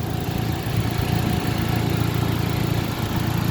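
A 2007 Chevy HHR with a 2.2-liter Ecotec engine idles steadily up close, a continuous low, even hum with no change in pace.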